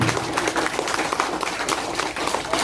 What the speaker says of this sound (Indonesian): Tepuk tangan dulu anak-anak buat Pak Kapolres.